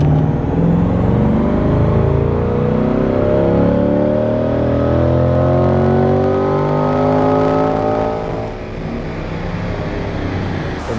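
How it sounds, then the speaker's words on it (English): Chevrolet C8 Corvette on a dyno during a fifth-gear pull, a loud, continuous engine roar with rising pitch as it accelerates, then easing off near the end. "now we just made 452 wheel horsepower doing a 5th gear pull"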